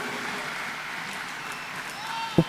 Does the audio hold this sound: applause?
yes